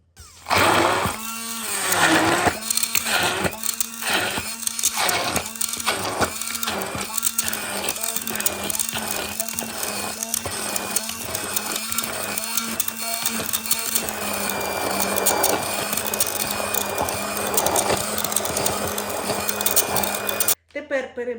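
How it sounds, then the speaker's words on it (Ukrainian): A blender whirs in rapid pulsing bursts for a long stretch while pureeing blueberries with sugar, then runs steadily, loud and close. "цю чорницю з цукром просто перебиваю блендером в пюре"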